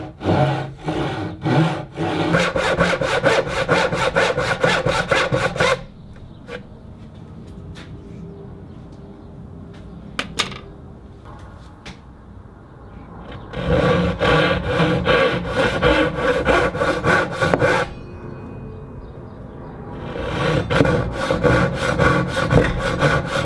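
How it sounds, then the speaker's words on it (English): A Dozuki Japanese saw cuts wood by hand. Bursts of fast, rhythmic rasping strokes, close and loud, are broken by quiet gaps with faint small taps, and sawing resumes twice. "the outlines are marked and then sawed as far as possible with a Dozuki Japanese saw"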